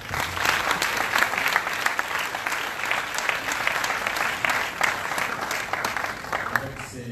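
A conference audience applauds steadily, dense clapping sustained throughout without a break, loud and close.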